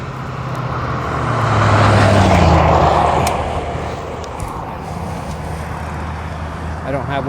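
A car passes on a road near a stopped cyclist, a broad engine and tyre rumble that swells to a peak and fades, followed by lingering road noise and wind.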